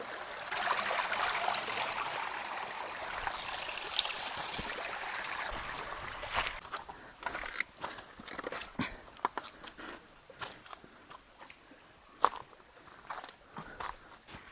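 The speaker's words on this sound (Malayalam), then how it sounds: "ഈ വെള്ളം ഒഴുകുന്ന ശബ്ദം അല്ലാണ്ട് പിന്നെ കാടിൻ്റെ ഒരു ശബ്ദമുണ്ടല്ലോ" A forest stream flows with a steady, soft rush of water for the first several seconds, then thins out under scattered clicks and rustling footsteps nearby.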